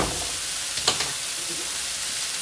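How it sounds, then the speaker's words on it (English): Beef stroganoff sizzles in a pan with a constant loud hiss, and a brief scrape of stirring comes just before the one-second mark. No one speaks. "I'm going to be stirring this occasionally."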